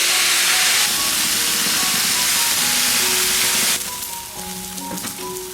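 Hot water poured into a pan of pork belly with spices and soy sauce sets off a loud, steady steam hiss and sizzle that drops off abruptly partway through, leaving a quieter bubbling simmer.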